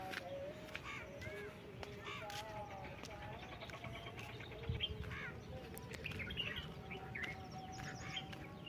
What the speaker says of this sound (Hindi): आपको वीडियो में पक्षियों की चहचहाहट की आवाज़ भी आ रही होगी।